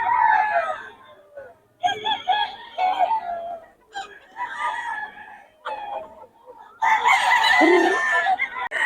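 Gamecocks at a rooster market in Bocaue crow and cluck in overlapping bursts, several birds calling close by with short pauses between, ending in a loud crowing burst.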